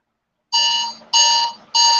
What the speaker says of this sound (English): there goes my alarm going off